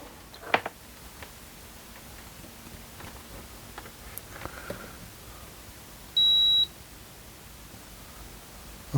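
A multimeter gives a single short continuity beep while probing ground on a Sinclair ZX Spectrum 48k board, a clear steady tone lasting under a second amid quiet clicks and handling noise.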